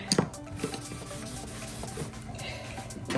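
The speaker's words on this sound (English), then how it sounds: "if it's leather, you could probably rub it with the alcohol as well" A cloth soaked in alcohol rubs over a leather notebook surface, giving soft, close, continuous scrubbing strokes that are faint and brief.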